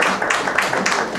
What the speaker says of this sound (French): Applaudissons pour les Très-Hauts